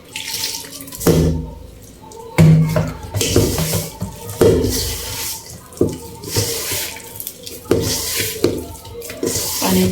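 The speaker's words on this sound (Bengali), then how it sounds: "এখন আমি পানি দিয়ে দিব।" Water poured and splashed into a bowl of rice flour and egg dough for pitha, in repeated uneven bursts with hand mixing sounds between, close and moderately loud.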